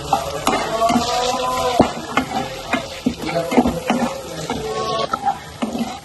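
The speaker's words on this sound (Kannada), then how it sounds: "ಗಾರ್ಲಿಕ್ ಚೆನ್ನಾಗಿ ಎಣ್ಣೆಲಿ ಫ್ರೈ ಹಾಕಬೇಕು, ಬಟರಲ್ಲಿ ಚೆನ್ನಾಗಿ ಫ್ರೈ ಹಾಕಬೇಕು" Garlic fries in butter in a pan, a soft steady sizzle broken by stirring scrapes and clinks from a utensil, close up, with no talk.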